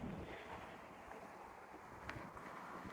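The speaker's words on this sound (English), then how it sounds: "It is currently a windy day." Wind gusts rush across a Google Pixel 10a phone microphone with speech enhancement enabled, a steady, fairly quiet broadband hiss, with no voices.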